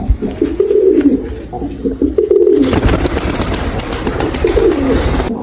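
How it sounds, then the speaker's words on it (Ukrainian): Young white pigeons cooing in low, rolling bursts close by, with sharp clattering knocks and wing or cage noise in the second half. "Белая молодая голубка."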